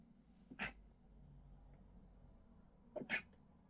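Two quick, sharp sneezes, about two and a half seconds apart, each a brief burst against a quiet room.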